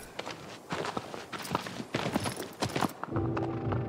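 Horse hooves in the video game Shadow of the Colossus on PS4 clop in a quick, uneven rhythm of sharp knocks, then stop as a soft steady tone takes over near the end.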